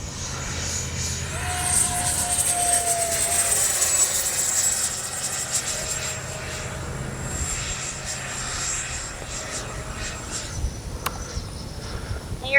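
A Freewing MiG-29 80mm electric ducted-fan RC jet passes overhead under dark skies, a steady rushing whine that swells and fades with the flyby, heard alone without talk.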